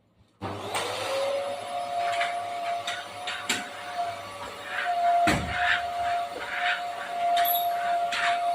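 Vacuum cleaner switches on after a brief quiet start and runs loudly with a steady whine, its pitch and roar shifting now and then as it moves, with occasional squeaks and bumps.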